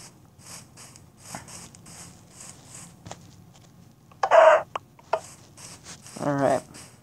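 Video game chicken clucks sound in short bursts on a morphing mod map, with two louder squawks and repeated faint clucking sounds between them.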